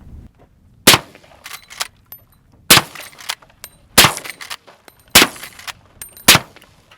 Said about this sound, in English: It sounds crazy with the suppressor on